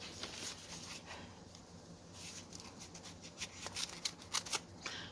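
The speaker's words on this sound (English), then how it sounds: "I gotta get my decent pair of scissors" Scissors handled at a stitching table, faint snips and small metallic clicks clustered toward the end, with light rustling and shuffling throughout.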